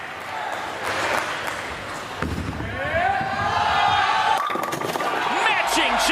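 A bowling strike at a televised professional league match, pins crashing down under a commentator's voice and a lively arena crowd that cheers as the rack scatters.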